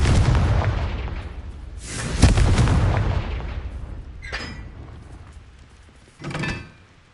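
Confringo blasting spell in Hogwarts Legacy, a loud booming explosion that decays slowly, followed by two weaker thumping blasts, the last sharp burst near the end, with no talking.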